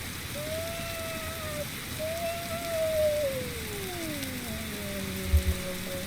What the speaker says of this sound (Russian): Ненавижу этот дождь тупой.